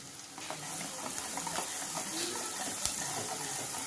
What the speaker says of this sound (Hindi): अब कढ़ाई में हम तेल में हम प्याज डालेंगे। प्याज के साथ थोड़ा सा गरम मसाला।